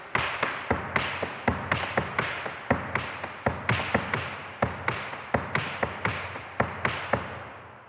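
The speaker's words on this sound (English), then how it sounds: "You can do a succession of heels going from slow to fast." Irish dance heel taps struck by a single dancer, a long run of sharp, close wooden clicks that start spaced and steadily quicken into a rapid, even patter, alone with no voices.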